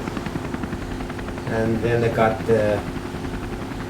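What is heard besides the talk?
rescue helicopter flying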